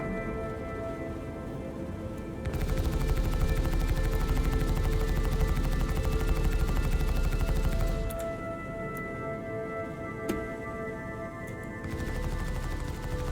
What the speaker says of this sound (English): Let's see how these guns sound.